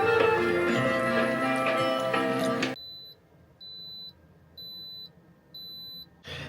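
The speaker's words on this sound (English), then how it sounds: "The electricity thing's just beeped" Electricity monitor aboard a narrowboat gives four evenly spaced short electronic beeps, clear and alone, after a stretch of louder background sound cuts off.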